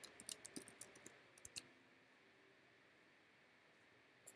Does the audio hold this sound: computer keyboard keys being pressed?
yes